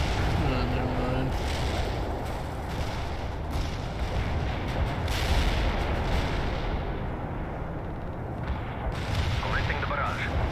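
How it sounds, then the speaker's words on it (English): An artillery barrage in World in Conflict rumbles as a dense, continuous roar of distant shell impacts and booms, loud and steady throughout, with radio-style voices speaking briefly over it. "Commencing the barrage."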